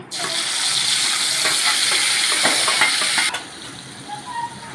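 A burst of loud sizzling as grated tomato hits hot oil with cumin and asafoetida, with scraping clinks, then the hiss drops abruptly to a quieter simmer near the end.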